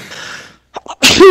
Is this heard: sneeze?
yes